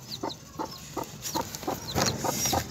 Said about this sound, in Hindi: ये देखें, ये हमारी असील मुर्गी